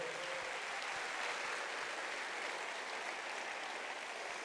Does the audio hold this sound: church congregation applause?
yes